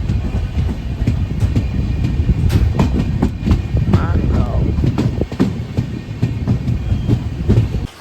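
A local train running toward Panvel rumbles and rattles steadily at close range, with rhythmic wheel clatter on the rails and a brief squeal partway through, while voices talk faintly underneath.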